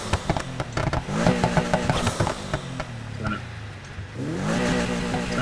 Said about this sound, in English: The fact that you can tune the sound of your rev, your exhaust.